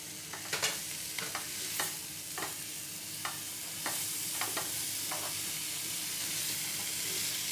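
Paneer cubes go into masala in a pan and fry with a steady hiss and sizzle, punctuated by sharp clinks and scrapes of a spoon stirring. It is close and moderately loud, with no speech.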